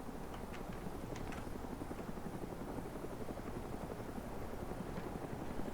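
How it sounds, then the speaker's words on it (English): A helicopter approaches in a video game raid set around 1993, its steady rotor thump and whine sounding loud and continuous with no other noise on top. "Oh, there's a heli coming in."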